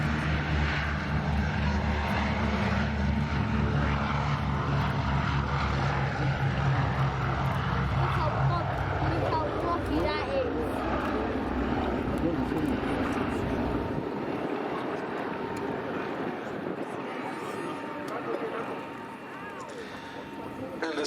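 Boeing B-17G Flying Fortress Sally B, a four-engine piston bomber, climbs away at a Duxford air show, its loud propeller drone filling the air and then thinning as it recedes, with a commentator speaking over it throughout.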